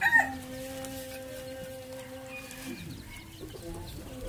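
Chickens calling, with a sharp squawk at the start, then a drawn-out tonal call and softer clucks, moderately close over faint background noise.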